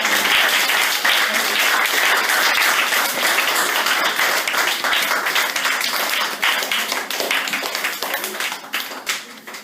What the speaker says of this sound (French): tous les enfants ici présents, ainsi que les parents et les organisateurs méritent les plus chauds applaudissements